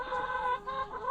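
A single hen clucking close by, a short series of rising and falling nasal clucks with no talking.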